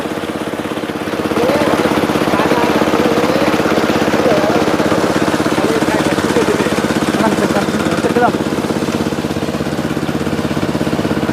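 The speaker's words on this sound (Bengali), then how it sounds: "আমরা আজকে পুকুর ছেঁচেছি দেখো। জিহাদ এখানে মেশিন লাগাইছে।" Engine-driven pump draining a village pond in Joypurhat, a loud, steady mechanical drone that runs unbroken throughout, close by, with no talk over it.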